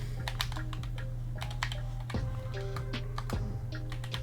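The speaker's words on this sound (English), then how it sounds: "My typing sucks." Typing on a computer keyboard at a desk, a close run of quick, irregular key clicks in short bursts over a steady low fan hum in the background, with no talk.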